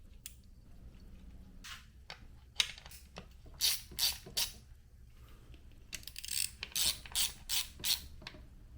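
Clicking ratchet strokes from a torque wrench tightening bolts during a Kawasaki Bayou ATV engine rebuild, in short bursts of close, crisp clicks between quieter pauses.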